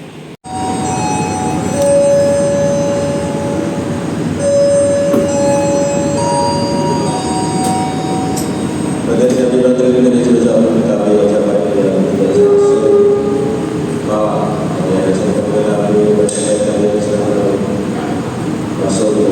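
Interior of the KA Majapahit economy-class train travelling on the Jakarta–Malang line, a steady rumble of wheels on rails with occasional tonal whines and a brief bell-like chime, continuous throughout.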